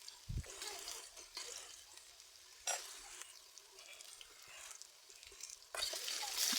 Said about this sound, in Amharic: እና ዘይት አግዬ ካሮት እየጠበስኩ ነው ያለሁት።